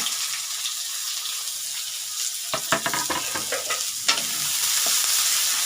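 Onion, green chili and ginger drop into hot oil with cumin for paneer bhurji: a steady hiss of frying, then a burst of crackling and spoon clatter as they hit the pan, close and loud, with no speech.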